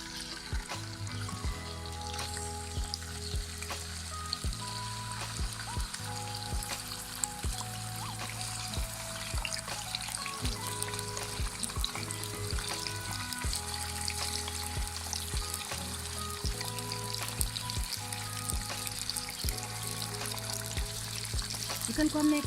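Chicken fries in oil in a kadhai for a green chilli chicken fry, a loud, close, continuous sizzle that holds steady throughout with faint stirring sounds underneath.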